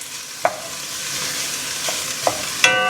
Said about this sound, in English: I am browning up the Italian sausage